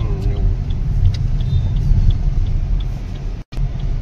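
A car driving along National Highway 43, heard from inside as a loud steady low rumble of engine and road noise with a very brief dropout near the end.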